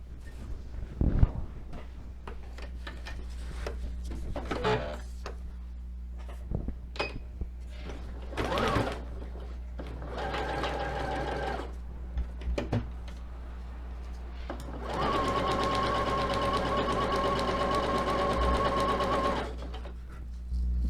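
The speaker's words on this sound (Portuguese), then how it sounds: "Eu vou passar uma costura aqui no meio da fita, da fita de gorgurão." Sewing machine stitching wool yarn loops onto grosgrain ribbon for a rag doll's hair, short bursts of close mechanical whirring between handling clicks, then a long steady run of stitching.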